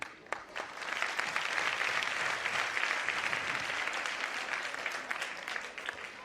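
An audience at a religious discourse in Jabalpur claps in sustained, dense applause that holds steady for several seconds before tapering slightly.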